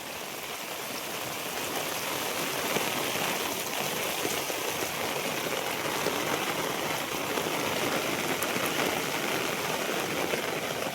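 Steady rain pours down on farmland during days of continuous rain, a dense continuous hiss of drops striking surfaces, growing slightly heavier after the first couple of seconds with no voices.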